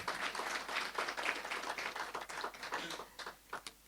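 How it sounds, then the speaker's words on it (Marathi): Audience at an awareness event and film premiere in Pune applauds together, a dense steady wash of many hands clapping that thins into scattered claps toward the end. "तुमच्यासाठीच टाळ्या वाजवा"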